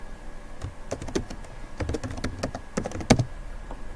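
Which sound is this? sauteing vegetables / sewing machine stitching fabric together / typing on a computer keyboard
typing on a computer keyboard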